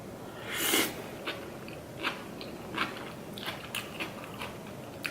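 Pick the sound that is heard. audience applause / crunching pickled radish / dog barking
crunching pickled radish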